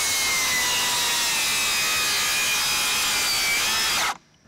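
Milwaukee 18V rear handle circular saw plunge cutting into a wooden board, a loud continuous high whirring cut that holds steady for about four seconds, then winds down sharply into a faint spin-down.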